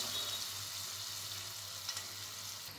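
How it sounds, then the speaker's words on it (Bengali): Malpua batter frying in a pan over a low gas flame, giving a steady, close hiss and crackle of oil that holds even throughout with no talk. "একটু সময় নিয়ে গ্যাসের ফ্লেমটা সিম করে রাখতে হবে, রেখে আস্তে আস্তে করে ভেজে নেব।"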